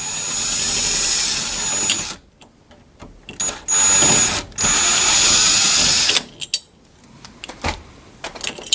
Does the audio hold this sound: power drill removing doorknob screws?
yes